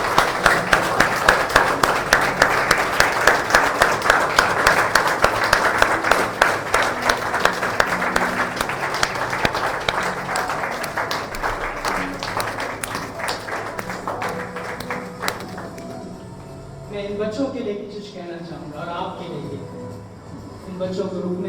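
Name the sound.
congregation applauding children at a prayer service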